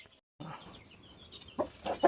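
A hen laying an egg clucks in short, faint bursts, with a thin high squawk in between and a few sharper clucks at the end, near and alone.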